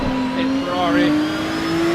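Ferrari 296 GT3 race car engine in Assetto Corsa EVO, a steady, droning high-revving note that holds level and climbs slightly throughout, with someone talking over it.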